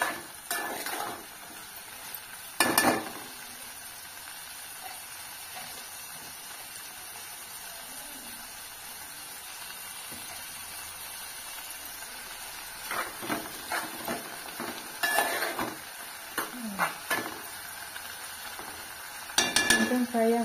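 Small bitter gourd curry sizzles in a pan with a faint steady hiss, broken by occasional metal spoon scrapes and clinks as it is stirred.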